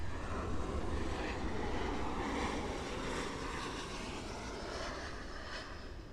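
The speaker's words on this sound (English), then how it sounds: "And this is American Airlines flight 924 arriving in from Medellin. It's a Boeing 737" An American Airlines Boeing 737 MAX arriving at Miami International Airport gives a steady, broad jet roar that holds constant and fades slightly toward the end, heard from a distance with no voices.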